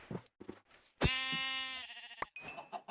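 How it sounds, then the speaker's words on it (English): A white sheep in the video game Minecraft gives a long, wavering bleat, loud and close, between short clicks and bursts of game sound. "3 white sheep over here."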